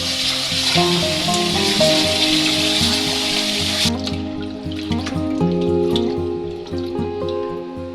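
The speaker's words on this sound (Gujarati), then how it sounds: "બધું પાણી કાઢી લીધા પછી ફરી પાણી ઉમેરતા જઈશું અને ઘસીને કેળા સાફ કરતા જઈશું" Water pours and splashes close up for several seconds, then stops, leaving wet rubbing and swishing sounds from hands rubbing ker berries clean in water.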